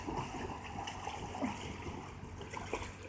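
Swimmers splashing in a swimming pool at Mandarmoni, a soft continuous wash of water with small scattered splashes, fairly faint and without voices.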